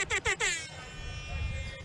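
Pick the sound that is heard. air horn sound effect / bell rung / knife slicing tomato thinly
air horn sound effect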